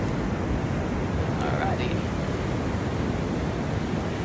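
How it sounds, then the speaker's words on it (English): Fast-moving ocean waves wash onto the shore in a steady, loud roar of surf mixed with wind buffeting the microphone, with a brief spoken word at the start. "These waves are coming in mighty fast."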